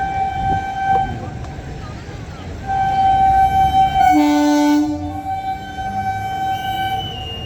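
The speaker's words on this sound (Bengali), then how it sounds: "দেখতে পাচ্ছেন এসি ট্রেনটা ঢুকছে এখন" An AC local train rolls into a station platform with a steady, loud rumble, while a long horn blast sounds midway through, close and alone without talk.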